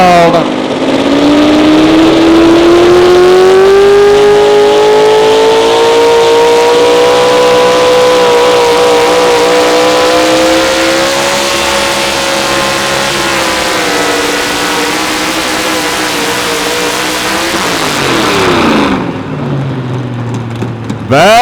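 A modified 4x4 pulling truck with a naturally aspirated 650-cubic-inch methanol-burning engine roars loudly and continuously, its pitch climbing steadily as it pulls, then dropping abruptly near the end as the engine backs off.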